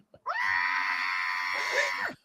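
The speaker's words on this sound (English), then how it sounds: "Does it completely mask the scream?" A person screams into a vocal warm-up muffling device while crouched in a bathtub behind a closed bathroom door. The scream is long, sustained and strained, held for about two seconds, close but dulled and muted.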